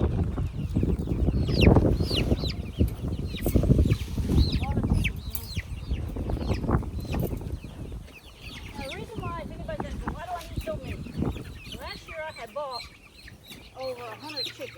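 A flock of over 100 chickens clucking and squawking together at close range on a farm, busy overlapping chatter with occasional louder calls and some human voices mixed in.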